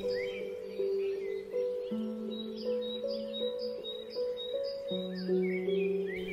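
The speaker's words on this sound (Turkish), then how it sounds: "Kuşların melodilerine kulak ver." Birds singing outdoors in nature, a busy mix of clear chirps and tweets over a steady tonal background, several calls overlapping at moderate distance with no voices.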